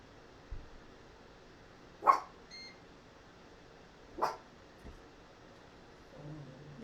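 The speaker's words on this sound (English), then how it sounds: "There's somebody outside, so just ignore my dog." A pet dog indoors gives two sharp, separate barks a couple of seconds apart, fairly faint in a quiet room, reacting to someone outside, followed by a soft whimper.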